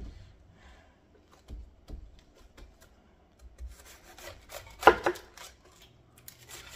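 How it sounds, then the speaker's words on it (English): Knife chopping vegetables for corned beef on a cutting board: scattered soft chops and scrapes, then a busier cluster of cuts with one sharp louder knock near the end. No voices. "just chop it up"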